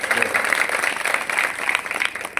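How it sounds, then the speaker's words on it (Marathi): Brief burst of crowd applause at a Shiv Mahapuran religious discourse, dense and fairly loud, with a voice mixed in over the clapping. "आपण एकदा यांच्यासाठी जोरदार टाळी वाजवा"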